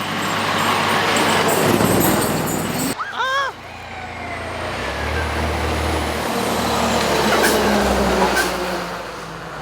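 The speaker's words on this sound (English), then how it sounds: "Here comes the fire truck." A fire truck rolls up to a fire scene in Hollis, its heavy engine rumbling loudly and an air brake hissing partway through, with steady road noise throughout and a brief shout from a person nearby.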